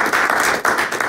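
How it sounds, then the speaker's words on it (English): Audience applause at the Midstream March 2024 event, a short burst of dense clapping from a crowd, fairly steady with slight dips, no voices. "Let's give a big round of applause to Anthony Ceballos"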